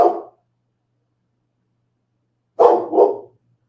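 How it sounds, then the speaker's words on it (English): A puppy barks close by: one short bark, a pause of about two seconds, then two more quick barks, loud against an otherwise silent background. "puppy's barking for a second"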